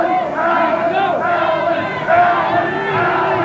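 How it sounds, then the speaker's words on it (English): Wrestling crowd at a Stampede Wrestling event cheering for Bad News Allen, a dense roar of shouting voices that swells and dips, near and loud throughout. "he's got a pretty good cheering section out here in the crowd"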